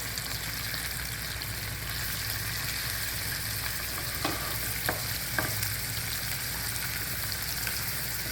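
Tiny burger patties fry on a hot griddle in a steady, even sizzle, broken by a few quick scraping clicks as a spatula slides under and flips them.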